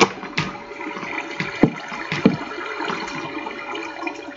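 Water placed and flowing in the Minecraft video game: a continuous rushing, gurgling stream with a few brief splashy surges, fairly loud and alone.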